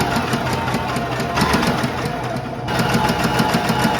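Sewing machine running a top stitch along folded fabric, a steady rapid mechanical chatter close up, with a brief change in pace partway through.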